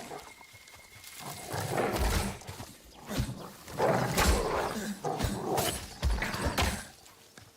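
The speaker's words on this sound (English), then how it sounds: "That definitely is wolves." Wolves howling and snarling in the survival video game Nightingale, several rough, overlapping bursts at mid distance over a low ambient bed.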